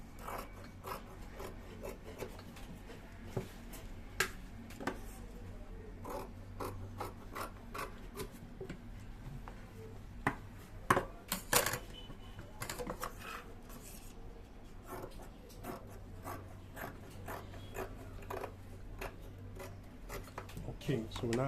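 Scissors snip around trouser fabric for a welt pocket in a rapid series of close, crisp cuts, with rustling cloth and occasional louder clicks throughout.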